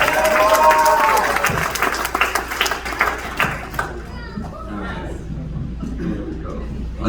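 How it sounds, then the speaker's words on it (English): A community crowd at a mosque event in New Jersey gives volunteers a round of applause, loud at first with cheering and children's voices mixed in, then fading to scattered claps and chatter. "Big round of applause for them too."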